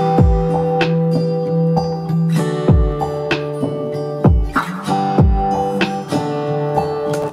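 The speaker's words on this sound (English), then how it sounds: "I like to use sometimes a drum loop or a perk loop to kind of give me a groove to work with" A steady drum loop with punchy kicks and snappy hits repeating in an even groove, sustained tones underneath, loud and up front.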